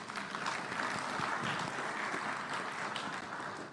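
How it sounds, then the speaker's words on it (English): Applause from a summit audience at the Kempinski Hotel, a soft, steady wash of many clapping hands heard from some distance, fairly faint and even throughout. "Please, His Excellency Wamkele Mene is yours for the applause."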